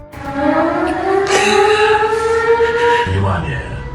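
A wailing air raid siren drones with rising tones, partly masked by people talking over it nearby.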